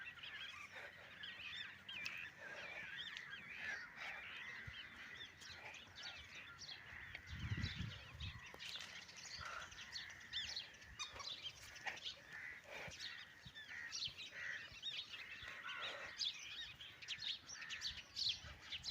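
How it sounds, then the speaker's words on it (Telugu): Birds call around a pond beside an old Shiva temple: a busy, faint mix of chirps and honking calls repeating throughout, with a brief low rumble midway and no talk. "ఇక్కడ అన్ని పక్షులు కూడా చాలా మంచి మంచి శబ్దాలు అయితే చేస్తున్నాయి"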